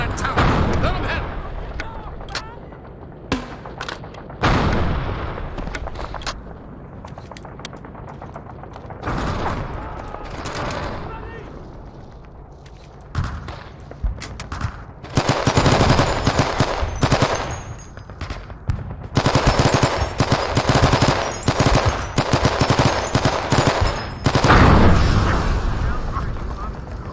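Machine gun fire in a Vietnam War video game, with sustained, loud rattling bursts and heavy volleys that rise and fall over the clip, mixed with booming impacts and voices.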